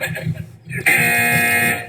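A voice is heard briefly, then a loud, sustained buzzer blares abruptly and holds steady for about a second.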